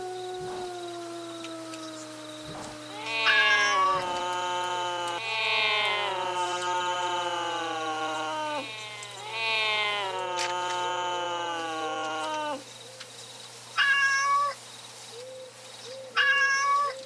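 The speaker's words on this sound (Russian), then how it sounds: "Кошки, вот кошки." Cats in a Roblox savanna game meow in a string of drawn-out, tonal calls, several overlapping cries in the middle followed by two short meows near the end, with no talking.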